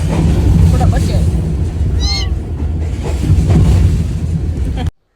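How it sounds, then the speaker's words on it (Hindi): A small kitten aboard a moving train gives one short, high meow, nearly buried under loud, rumbling train noise that continues throughout before cutting off abruptly. "ट्रेन में न जाने बिल्ली का छोटा सा बच्चा इतना क्यूट सा था, कहाँ से आ गया।"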